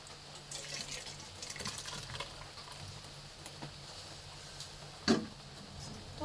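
Curdled milk for homemade paneer pours through a clean cotton cloth into a basin, giving a soft, uneven watery splashing near the start and one brief sharp splash later, all faint and close.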